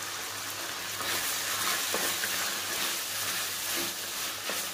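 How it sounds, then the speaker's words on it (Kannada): Onion, dried chilli and tomato paste frying in a pan, a steady close sizzle with faint stirring scrapes and no voices. "ಈರುಳ್ಳಿ ಮತ್ತು ಒಣಮೆಣಸಿನ್ಕಾಯಿ ಮತ್ತು ಟೊಮೆಟೊ, ಅದನ್ನು ಹಾಕಿ"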